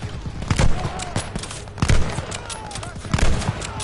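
Gunfire from Call of Duty Vanguard fills a noisy wartime battlefield with irregular bursts of shots and heavy thuds, some close and loud and others more distant, under muffled shouting.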